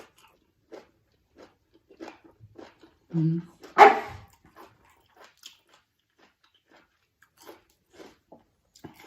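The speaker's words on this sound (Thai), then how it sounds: "ลูกหมาลงมาอีกแล้ว" A puppy gives a few short barks and yelps beside someone pounding spicy squid salad outdoors in a Thai home setting. The barks are faint and scattered among quiet clatter and sparse talk.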